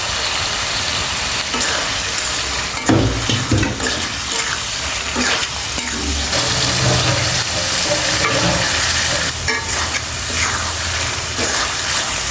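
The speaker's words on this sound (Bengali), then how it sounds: "মাছটা ভালোভাবে কষাতে হবে, এভাবে ভালো করে কষিয়ে নেবে।" Fish sizzles in spiced oil with fried onion in a pan: a steady, loud, crackling fry, with stirring and scraping over it throughout.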